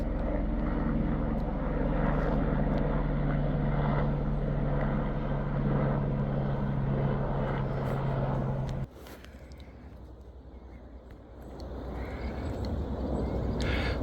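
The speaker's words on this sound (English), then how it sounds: "There's that plane again." A small airplane circling overhead drones steadily and loudly as one continuous engine tone, then cuts away abruptly partway through and returns more faintly as it moves off.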